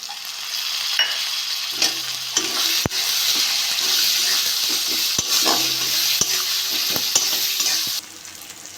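A spice masala with tomato fries in oil after the oil has separated, with a steady soft sizzle broken by sharp scraping stirs and knocks of a spoon against the pan.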